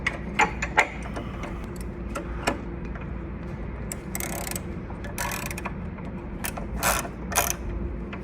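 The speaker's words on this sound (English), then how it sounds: "Now you're gonna grab your 1/2 inch wrench and you're gonna tighten up your bolts." A half-inch ratchet wrench tightening bolts on a stretched CVO rear end kit, giving repeated quick metallic ratcheting clicks in short bursts, close by over a low background hum.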